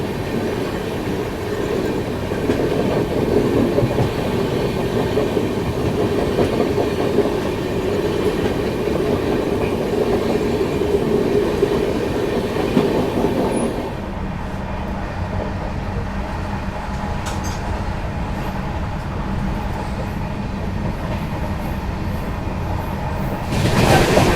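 Rajdhani Express passenger train (Bilaspur to New Delhi) running through Chinchoda railway station at night, heard from inside the coach: a loud, continuous rumble with rattling wheels. Partway through the roar drops to a softer, steadier hum.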